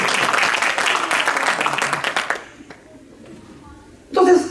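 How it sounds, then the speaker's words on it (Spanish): Audience applause breaks out at a talk, a broad dense clatter of clapping for about two and a half seconds that then cuts off into near quiet, with a short louder burst returning at the end. "Denle un fuerte aplauso a Jonathan."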